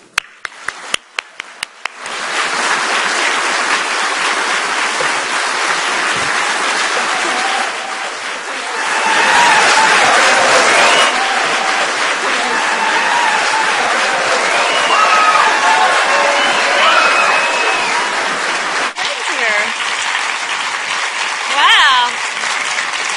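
A large audience at a formal welcome event at the Bush Library in Texas bursts into sustained applause and cheering, loud and broadband throughout, with whoops rising mid-way and a brief voice near the end.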